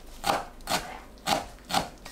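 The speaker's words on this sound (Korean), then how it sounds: "열무를 작은 크기로 썰어줍니다" A knife chops young radish (yeolmu) into small pieces on a board, four distinct crisp cuts spaced about half a second apart, close and moderately loud, with no talking.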